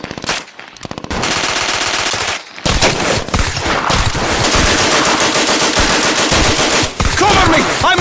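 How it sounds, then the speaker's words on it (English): Loud, sustained machine gun fire from a LEGO WW2 Pacific battle animation, rapid continuous bursts with brief pauses early on, dense and close throughout. "Suppressing fire!"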